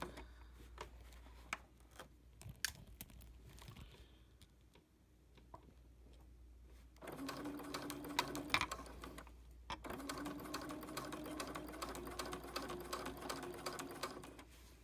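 Sewing machine stitching binding inside a fold, opening with scattered clicks and taps, then two long bursts of rapid, steady mechanical running separated by a short pause, close and fairly quiet, no voices.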